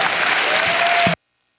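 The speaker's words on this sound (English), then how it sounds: "Let's give a big round of applause for Reflejos de Mexico." A crowd breaks into loud, dense applause for the folkloric group Reflejos de Mexico, a sustained roar of clapping that cuts off abruptly into silence.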